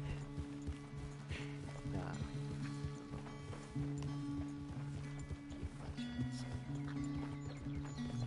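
A horse in the video game Red Dead Redemption 2 clip-clops at a steady walk, its hooves landing in an even rhythm over a sustained musical score and ambient game sound.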